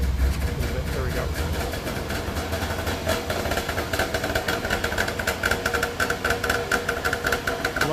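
Small two-stroke car engine idling just after start-up with the choke in use, a steady close, uneven knocking putter throughout with a person talking faintly over it.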